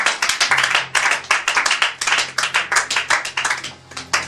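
A church congregation at a French-language service claps steadily and rapidly, dense rhythmic handclaps filling the room continuously, with a faint low hum underneath.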